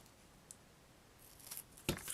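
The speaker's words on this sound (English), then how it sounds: "I went a little bit over on the ends so that I can just snip it right off." Scissors trim the overhanging ends of washi tape on a handmade specimen card, giving a couple of faint, brief snips toward the end of an otherwise quiet stretch.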